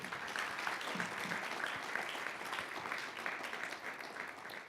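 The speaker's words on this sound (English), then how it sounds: "How about a round of applause for Jeremy Schaap?" An audience at a sports storytelling panel event claps in a steady, sustained round of applause that holds at an even level throughout, heard from a little distance.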